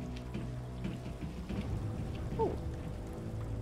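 Steady rain patters and hisses as a water effect in the Mass Effect video game, a constant close wash of drops with a low rumble underneath.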